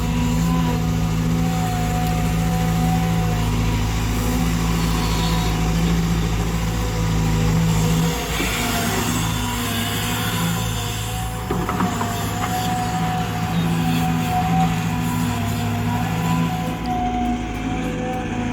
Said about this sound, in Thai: ตอนนี้นะครับรถขุดของเราก็ได้ทำการลอกชั้นแรกอยู่นะครับ ก็คือลอกในส่วนของชั้นหน้าดินนะครับ